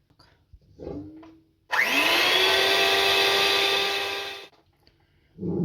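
An electric mixer whirs steadily for about three seconds as it beats eggs with salt, loud and close, bracketed by brief quieter handling sounds before and after.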